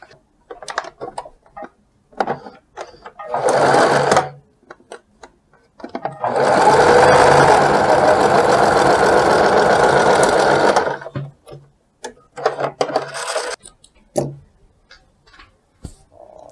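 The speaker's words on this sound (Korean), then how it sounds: "펼쳐서 이렇게 잡아서 여기를 1cm로 먼저 박아줍니다" A sewing machine stitches a 1 cm seam joining pieces of culottes, running in a few short bursts before one long steady stretch of stitching and then more brief runs, close and loud.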